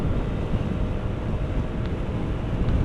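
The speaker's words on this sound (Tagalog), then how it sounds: "Lakas ng hangin." Strong wind roars steadily across the microphone while riding at speed, a dense, continuous low rumble and buffeting that holds at a loud level throughout with no voices.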